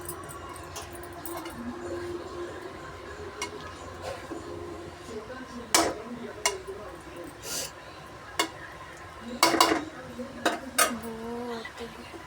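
A spoon stirring a mixture in a metal pot, with scattered scrapes and sharp clinks against the side, several louder clatters in bursts, under faint background noise.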